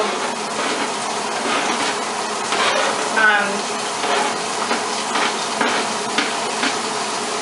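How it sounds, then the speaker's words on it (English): Steady sizzling of onions frying in leftover meat fat, a continuous crackling hiss with occasional stirring scrapes. "I'm just shoving onions into the fat residue from all the meat"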